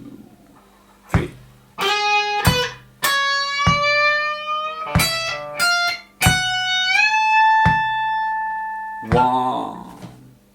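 Electric guitar with a slightly driven tone plays a lick: sharp picked notes and string bends in uneven bursts separated by brief gaps, loud and close with no voices.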